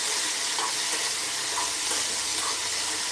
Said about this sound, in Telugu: మనం కాస్త ఆయిల్ వేసి దాన్ని అయితే మనం రోస్ట్ చేసుకోవాలి చూడండి